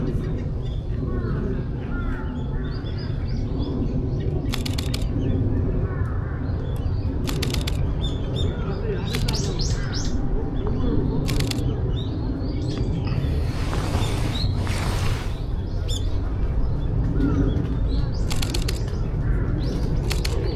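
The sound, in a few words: birds chirping in Shakujii Park, Japan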